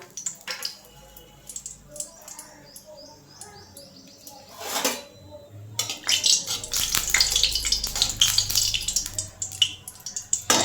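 A dried red chili and a bay leaf hit hot oil as tempering for a flat-bean fry, starting with a faint crackle that swells into a loud, steady sizzle with popping bursts over the last few seconds.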